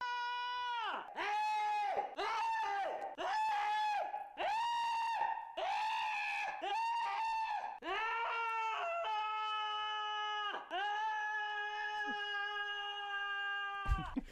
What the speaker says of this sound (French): il accompagne chacun de ses coups de pinceau d'un hurlement et ça donne ça